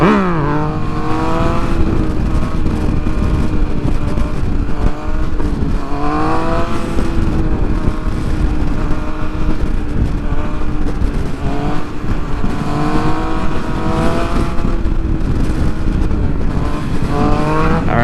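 A Yamaha MT-09 motorcycle engine runs steadily while riding, rising and falling through several revving surges and gear changes, loud and close throughout with no talk.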